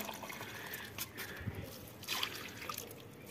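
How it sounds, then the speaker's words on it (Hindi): Water trickling and dribbling onto potted plants as they are watered in hot sunny weather, a soft steady splashing flow close by with no talk. "ये अब मैं पौधों को पानी दूंगी"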